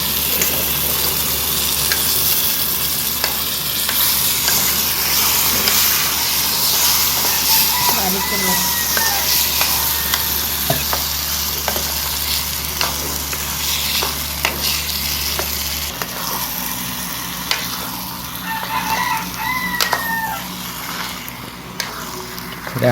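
Prawns fry and are stirred in a pan, a steady sizzle and hiss with scraping stirs throughout, loud and close, while people talk intermittently over the cooking.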